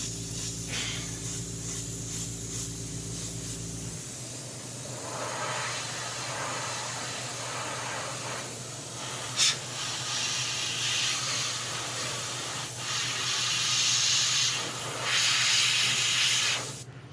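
Spray mist applied to a pastel artwork in progress, a long soft hissing spray lasting many seconds with a few sharper bursts, steady and close, after a brief low electrical hum at the start.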